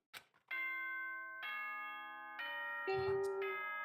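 The school announcement chime in the video game Danganronpa rings out as a sequence of clear, sustained bell tones, each new note layered over the ringing of the last.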